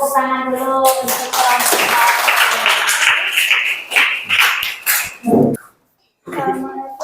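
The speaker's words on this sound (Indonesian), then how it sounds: "Kasih tepuk tangan dulu untuk" A classroom group gives a round of applause before a presentation, with brisk rhythmic hand claps overlapping a voice at the start, then a few scattered louder claps and a brief silence before talking resumes.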